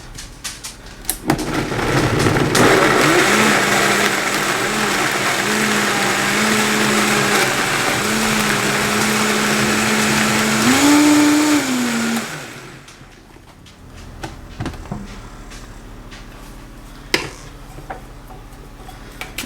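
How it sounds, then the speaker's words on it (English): Countertop blender running on hot roasted homegrown salsa, a loud steady motor whir lasting about eleven seconds with pitch rising near the end, then cutting off to near quiet with a few small clicks. "you don't want to overfill the blender because it could spray back on you"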